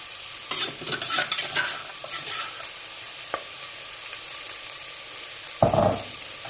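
Spoon stirring a spicy Thai pork curry in a pot, with scraping strokes in bursts, a faint sizzle underneath and a loud clang near the end, no talking.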